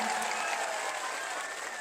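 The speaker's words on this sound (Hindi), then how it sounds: "एक बार कस के ताली बजा के अपना अपना स्वागत करिए, जोरदार ताली बजा के" A crowd at an Indian political rally claps in a dense, continuous wash, loud and steady throughout with a faint undertone of voices.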